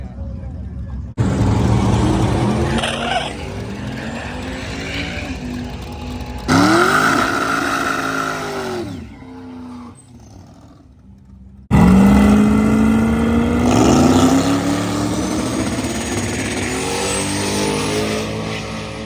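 Race car engine firing up and revving hard in repeated climbing bursts, loud and close, with excited voices calling out over the engine at a race week event.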